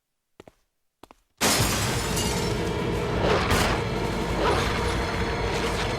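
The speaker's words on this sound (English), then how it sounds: "when the dogs jump through the glass and scare you shit" Glass shattering loudly as attacking dogs crash through a window in the original Resident Evil video game, a sudden burst after two brief faint clicks, followed by sustained crashing noise and debris.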